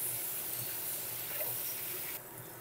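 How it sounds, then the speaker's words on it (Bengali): Boiled jackfruit pieces frying in oil until browned, giving a steady close sizzle and hiss with faint crackles, easing slightly toward the end. "এঁচোড়গুলো বেশ ভালো করে লাল লাল করে ভেজে নেব।"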